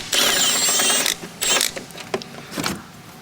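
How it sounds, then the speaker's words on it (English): A ratchet on a 13 mm swivel socket clicks rapidly while loosening a bolt on a Ford Bronco air compressor install, with a long burst of ratcheting followed by several shorter bursts, close and clear. "So we're gonna pull that bolt off real quick. I'm using a 13 millimeter swivel socket."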